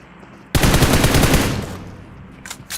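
Loud automatic gunfire from the battle game PUBG Mobile bursts in abruptly and sustains a dense rattling volley for about a second, then tapers, with a brief second burst near the end.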